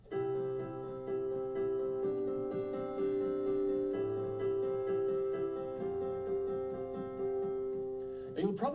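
Piano arpeggiated chord progression played quickly, a fast flowing stream of broken chords over sustained bass notes, close and steady, ending with a brief noise.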